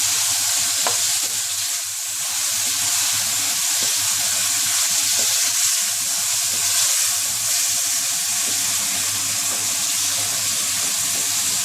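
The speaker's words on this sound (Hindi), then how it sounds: "एक से 2 मिनट के लिए इन सारी चीज़ों को भी हम भूनेंगे।" Potatoes, green capsicum and tomatoes fry in a pan with a constant, even sizzle close by, loud and unbroken throughout.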